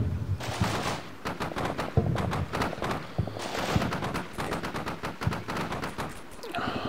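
Artillery barrage in the wargame Combat Mission Shock Force, with a dense run of sharp explosive reports and rattling gunfire pounding in rapid succession throughout, loud and close, with brief lulls between volleys.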